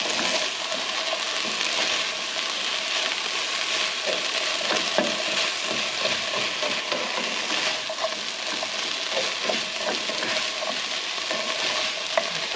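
Egg fried rice sizzling steadily in a hot pan while being stirred, a constant bright frying hiss with frequent small scraping and tossing ticks throughout, close up and with no voices.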